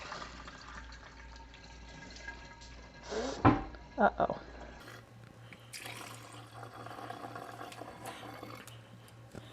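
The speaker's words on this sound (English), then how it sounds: "I have to pour faster than the funnel can take it to not dribble." Homemade raspberry mead pours through a funnel, with a soft liquid trickle and a few sharp clinks and splashes midway, while people talk quietly nearby.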